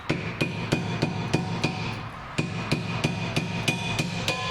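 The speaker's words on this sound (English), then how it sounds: "I'm just going to hit these off with the hammer and a screwdriver" A hammer strikes a screwdriver to knock worn rear brake pads off a car, giving a steady series of sharp metallic taps, roughly two per second with a brief pause midway, loud and close, with no talking.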